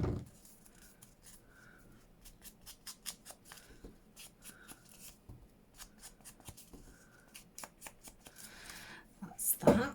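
Scissors snip paper for a junk journal envelope in a run of short, crisp cuts, with quiet handling rustles between them and a louder paper rustle near the end.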